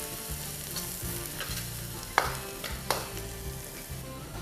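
Chopped ginger and garlic sizzle in about a tablespoon and a half of oil in a pan for a beef stir fry. A steady close frying hiss runs under a spoon stirring, with a couple of sharp scrapes against the pan.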